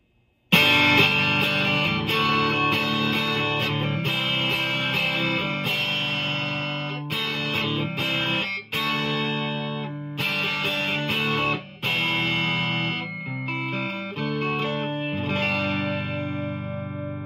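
A PRS SE McCarty 594 electric guitar rings out through effects units with distortion and chorus, loud and sustained as chords and notes change, with brief gaps between phrases and no talking.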